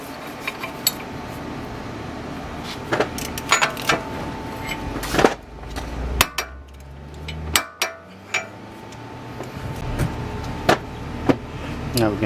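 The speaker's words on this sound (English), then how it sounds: "Now we're going to go ahead and put the axle nut in. Torquing it to 138." Torquing the axle nut on a Nissan Rogue during a passenger-side axle replacement, a series of sharp metallic clicks and clanks at irregular intervals, with a low whirring tool burst in the middle, close up.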